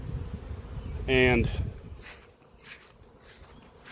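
Honey bees from a large caught swarm hum in a close, steady buzz, with one louder pass overhead and a brief spoken word.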